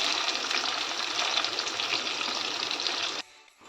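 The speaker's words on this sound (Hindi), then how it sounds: "ये देखिए हमारी अनियन फ्राई हो गई है।" Chopped onion frying in ghee with black and green cardamom and cloves, a loud, steady broadband sizzle for about three seconds that cuts off abruptly, leaving a faint quiet tail.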